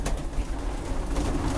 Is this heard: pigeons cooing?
yes